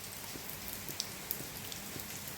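Steady rain falls, a soft continuous hiss with a few distinct drips and drops landing nearby, fairly faint and unbroken by talk.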